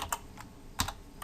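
Quick, light keystrokes on a computer keyboard, a handful of crisp clicks in an uneven rhythm, close and fairly quiet with no talking.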